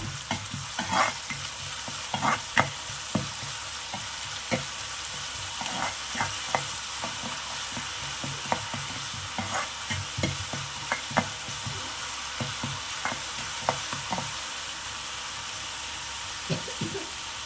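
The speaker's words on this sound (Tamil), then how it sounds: "இப்போ வந்து இஞ்சி பூண்டு பேஸ்ட்டு பச்சை வாசனை போகிற அளவுக்கு நாம் வதக்கி எடுத்துக்க போகிறோம்" Ginger garlic paste sautéing in a pan for prawn fry, with a steady soft sizzle beneath repeated scraping and stirring strokes from a spoon, close and continuous.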